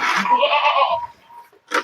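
A wounded goat gives a loud, close bleat lasting about a second, followed by a brief quiet and then a short rasping sound.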